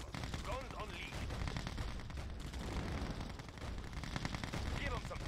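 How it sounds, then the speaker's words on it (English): Rapid gunfire from airborne artillery units in the strategy game Yuri's Revenge rattles on steadily as a dense, continuous barrage, with game unit voice lines heard over it. "Airborne artillery. Airspeed to maximum. Guns unleashed."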